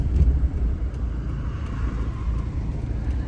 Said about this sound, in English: Sitting here waiting to get ready to pull out. Idling right at 800 RPMs, nice and smooth.